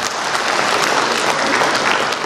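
Audience applause at a motivational talk, a dense, steady wash of clapping from a large crowd that holds at an even, loud level throughout without pause.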